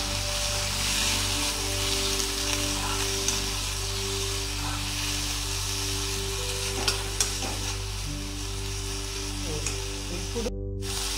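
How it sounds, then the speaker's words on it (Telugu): Purslane curry with a little turmeric frying in a pan, stirred continuously: a constant close sizzle with low hum and scattered spoon clinks, no speech. "తర్వాత కొద్దిగా పసుపు వేసి మళ్ళీ కలపాలి."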